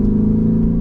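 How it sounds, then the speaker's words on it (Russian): A Mansory Venatus-tuned Lamborghini Urus engine revs lightly with a brief, close, steady low rumble and no speech over it. "Едва коснувшись педали газа и слегка повысив обороты,"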